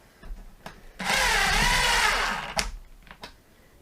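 A cordless 12V brushless impact driver, either a DeWalt DCF801 or a Milwaukee M12 FID Gen2, drives a 3.5 by 25 screw in a close, loud, dense rattling burst of about a second and a half, framed by handling clicks.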